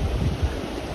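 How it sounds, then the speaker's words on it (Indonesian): Steady beach ambience at Lhok Mata in Aceh Besar, Indonesia: a continuous broadband wash of waves and surf mixed with wind buffeting the microphone, moderately loud and without voices. "Ya beginilah suasana pantai"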